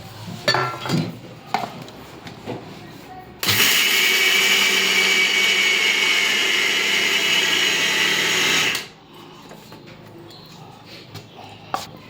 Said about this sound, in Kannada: ಈಗ ಇದು ನಮ್ಮಮ್ಮಿ ಮಿಕ್ಸಿ ಮಾಡ್ಕೊಳತ್ತಾರ.